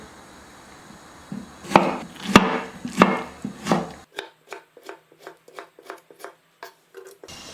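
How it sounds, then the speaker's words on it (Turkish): A knife chops tomatoes on a board in a run of sharp, crisp strikes, first louder and wetter, then quicker, lighter taps close by. "Domatesleri bu şekilde yemeklik doğrayacağım."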